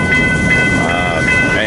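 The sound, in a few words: freight train working a grain yard on the main line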